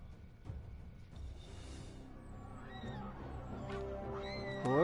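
A stolen horse in Kingdom Come: Deliverance whinnies and neighs amid game ambience, with a few sharp squealing calls rising toward the end.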